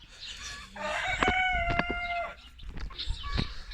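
A rooster crows once, a loud rising and falling call up close, during a morning release of birds. Softer clucks and scattered knocks follow, with no speech.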